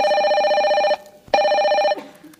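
A telephone bell rings twice in quick succession, loud and close, with a short silent gap between the two rings.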